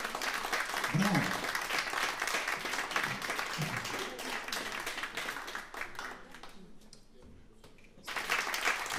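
Audience applause at an opera night concert, a steady broadband wash of clapping that fades around the sixth second and swells again near the end, with a voice speaking over it.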